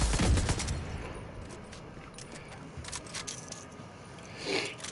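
Rapid bursts of automatic gunfire in The Division 2, a loud volley at the start followed by scattered shots and clinks at mid distance, with a few sharp cracks later and no voices.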